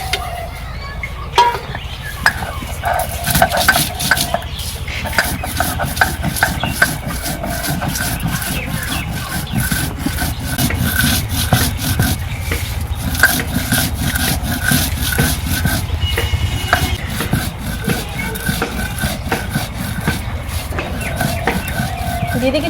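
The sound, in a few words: grinding roasted spices by hand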